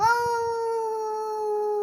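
A voice imitates a dog with one long, steady, howl-like tone held for about two seconds, not sharp barks.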